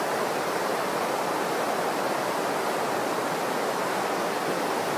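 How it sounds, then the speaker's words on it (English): Running water from a stream or small cascade, a dense, even rushing hiss that stays loud and unchanging throughout with no voices. "of that running water."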